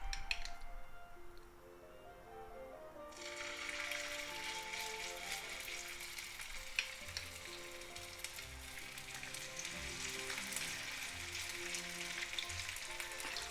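Turkey liver cutlets sizzle and crackle steadily in hot oil in a pan, growing louder after a few seconds and continuing as a dense, close frying hiss without speech.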